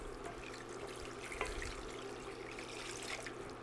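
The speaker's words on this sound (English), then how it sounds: "pour this in while I stir it" Liquid poured steadily into a pot while it is stirred to make turkey pot pie, a soft continuous trickling and sloshing at low volume with no one talking.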